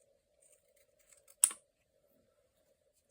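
Scissors trim a paper template in one short, sharp snip, preceded by a few faint light ticks of paper handling in an otherwise quiet room.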